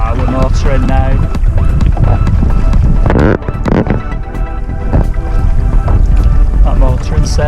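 Sailboat under sail on open water, with steady wind buffeting the microphone and water rushing past the hull throughout; people talk over it.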